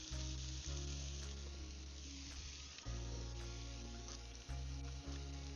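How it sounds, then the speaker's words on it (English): Crayfish frying in plenty of butter in a pan give a steady, close sizzle with soft crackle and a few brief dips, no voices. "You never have too much butter when you're cooking up crayfish"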